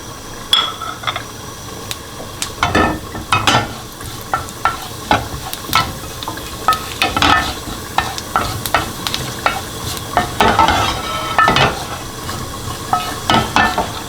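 Cumin seeds crackle and sizzle steadily in hot ghee, with irregular popping bursts over a constant frying hiss, close and fairly loud.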